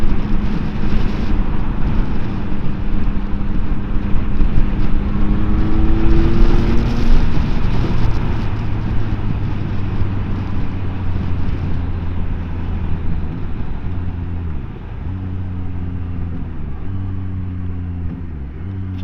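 Yamaha XSR900 motorcycle with standard exhaust accelerating hard through the gears, loud and close, with rising engine tones, shift breaks and a brief exhaust pop near the end, no talk.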